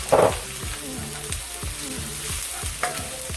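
Garlic and thyme sauté in a pan, a close continuous sizzle with soft stirring scrapes, a brief louder burst at the start, with background music faintly underneath and no talking.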